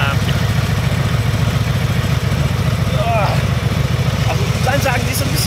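A Harley Davidson Road Glide motorcycle engine runs steadily nearby with a deep, continuous low rumble, while people talk over it.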